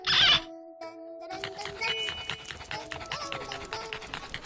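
A small dog pants rapidly and rhythmically close by, its quick breaths continuing for several seconds after a brief sharp noise at the start, with no talking.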